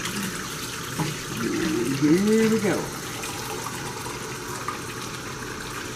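Tap water gushes into a pot, filled for heating to make green tomato sweet pickles. The stream rises in pitch as the pot fills and lasts about a second and a half, with a voice speaking briefly before it.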